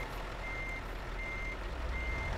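Reversing beeps repeat at a steady interval over a continuous low diesel engine rumble as a truck parks in the game Road Rage Truckers.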